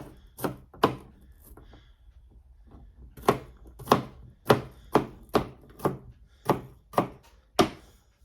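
A knife chopping through an onion on a cutting board, about a dozen crisp, close thunks in an uneven rhythm with a short pause in between, heard alone in a quiet kitchen.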